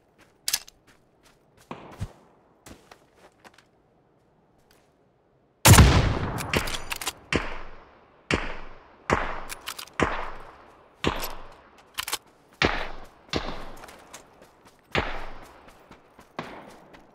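Gunfire in the video game PUBG: after a few scattered sharp shots, a steady series of loud, evenly spaced reports rings out, each with a short decaying tail, continuing for about twelve seconds.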